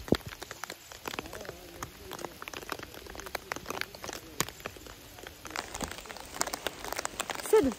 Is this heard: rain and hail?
yes